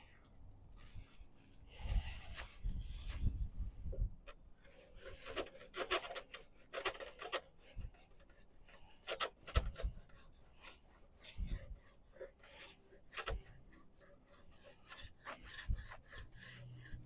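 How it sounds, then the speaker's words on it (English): Cabinet scraper working down a black locust bow stave toward a growth ring, giving repeated dry raspy strokes in uneven bursts, close and moderately loud, with no talk. "Slow and gentle, and then the cabinet scraper if you have to."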